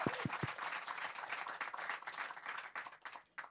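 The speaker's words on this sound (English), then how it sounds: "That's worth an applause, guys." Applause from an audience at an Africa Day 2023 youth panel on climate justice, a dense wash of clapping that runs for a few seconds after a few heavier opening claps and thins out toward the end.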